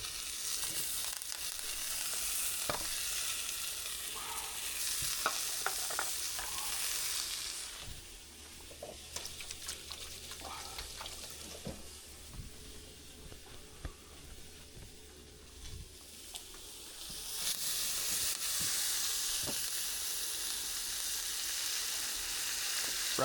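A sirloin steak searing in butter in a hot pan, with the heat lowered slightly to keep the butter from burning. A steady, close frying hiss with scattered pops and spatters swells louder toward the end.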